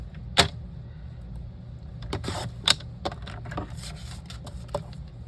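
Gray cardstock for a card layer being cut to 4 by 5, heard as a sharp snip followed by a run of small crisp cuts and taps at close range, with no talking.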